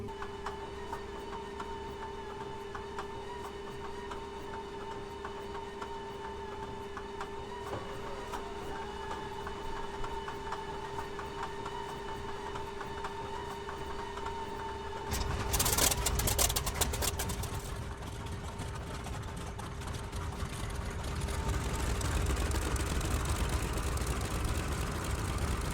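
In a video game, the Skyraider's 18-cylinder radial piston engine starts and idles with a steady low mechanical drone. It surges into a louder, rougher roar partway through, then settles into a fuller running sound.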